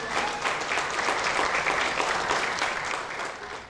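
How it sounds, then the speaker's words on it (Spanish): Applause from a congregation at a memorial mass for a young man, a steady dense patter of clapping hands with a faint room tone, moderately distant. "Así es que vamos a darle un aplauso"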